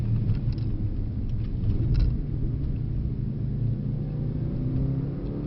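A Mercedes-AMG C63 S accelerates on a track, heard as a steady low engine rumble from inside the car, loud and continuous with a slowly rising tone.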